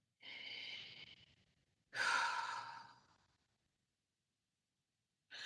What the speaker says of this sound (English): Take a deep breath in here